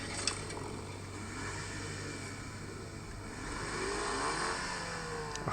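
Toyota Supra 2.0-liter engine and exhaust revving, heard faintly from inside the car as a smooth rising whine and drone over road noise, climbing in pitch toward the end.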